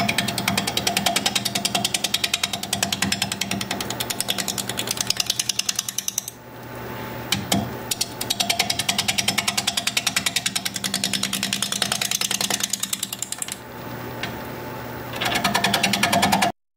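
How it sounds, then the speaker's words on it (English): A freshly sharpened 5/8 inch bowl gouge cuts into a spalted alder bowl on a wood lathe turning at 600 RPM. It makes a loud, rapid, steady chattering rasp that continues almost throughout, with two short pauses. "I have a freshly sharpened 5/8 inch bowl gouge, and I can't wait to tear into this thing. I'll be turning at 600 RPM."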